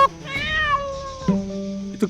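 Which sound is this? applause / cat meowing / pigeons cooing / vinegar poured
cat meowing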